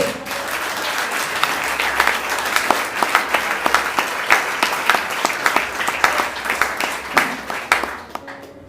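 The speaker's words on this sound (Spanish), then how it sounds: "Denle un fuerte aplauso a Dios." Congregation at a church sermon applauding God, a dense sustained wash of many hands clapping with sharper individual claps standing out, steady and loud throughout before tapering at the very end.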